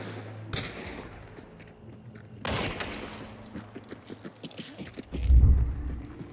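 Officer Carbine fire in a video game, a few sharp bursts of shots and rapid cracks amid clattering game effects, close and punchy, ending in a heavy low thump.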